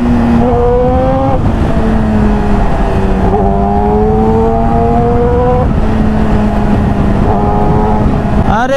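A heavily modified Yamaha R15 motorcycle revs repeatedly near a bridge with traffic around, its engine pitch rising and falling in loud close bursts that rarely let up.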